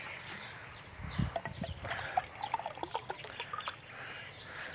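Water trickles and splashes as it is poured into a container in a rural home, a soft uneven pour with small droplets, fairly close and unaccompanied by talk.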